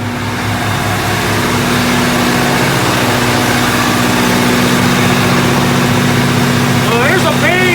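A rebuilt generator engine runs steadily at about 1827 RPM, a loud, continuous close-up drone with a low hum. Faint speech-like tones emerge near the end.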